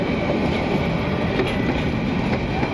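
A train passing at Cox's Bazar, Bangladesh, a steady loud rumble of wheels and carriages rolling slowly and continuously at close range, with no talk over it.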